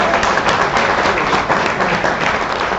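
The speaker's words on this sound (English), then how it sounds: "A big round of applause for our esteemed panelists." Steady, dense applause from an audience honoring panelists at a Jewish community event, a continuous wash of many hands clapping at even loudness throughout.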